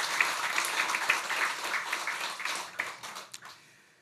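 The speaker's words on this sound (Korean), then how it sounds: "성가대 다시 한번 격려의 박수 한번 하겠습니다" A Sunday worship congregation claps in encouragement for the church choir on a rainy day, a moderate burst of many hands that gradually thins to a few last claps and fades out.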